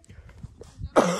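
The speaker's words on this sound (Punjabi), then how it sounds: "ਮੈਨੂੰ ਯਾਰ ਥੋੜ੍ਹੀ ਜਿਹੀ ਖੰਘ ਹੋਈ ਖੜੀ ਹੈ" A single short, sharp cough bursts out near the end of the clip, close and fairly loud, preceded by faint rustling and movement in a quiet outdoor desert village setting.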